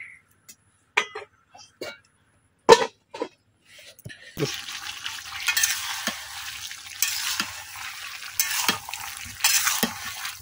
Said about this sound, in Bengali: এখন মশলার সাথে খুব ভালোভাবে কুমড়াটা মিশাই নিলাম। এখন ডাইকা কিছুক্ষণ কষাই নিলাম।